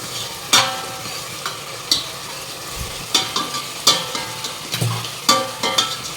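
A spoon scrapes and stirs food in a cooking pan while preparing a Sunday meal with fish curry. Rhythmic strokes knock against the pan over a steady background sizzle of frying.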